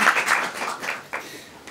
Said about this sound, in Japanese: まず、左方が良かったという方は拍手をしてください。